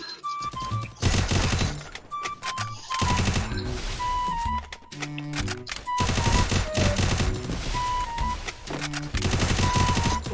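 Rapid bursts of sniper and automatic gunfire from the Garena Free Fire video game, loud and dense, with short gaps between volleys.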